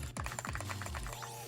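Keys clack rapidly on a keyboard fitted with see-through keycaps, a close, even run of crisp taps with a low hum underneath and no talking.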